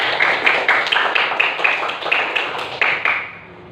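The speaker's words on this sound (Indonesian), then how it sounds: "tepuk tangan untuk kita semua" Classroom applause from students, a quick run of rhythmic claps close by that fades out near the end, with faint voices mixed in.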